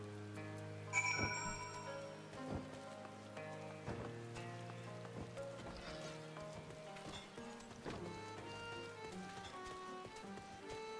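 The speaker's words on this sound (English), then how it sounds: "It's been raining for a lot of the time I've been going through this." Steady rainfall in Final Fantasy XIV: Shadowbringers patters softly and continuously beneath a calm, tonal music bed, with occasional sharper drips and taps and no voices.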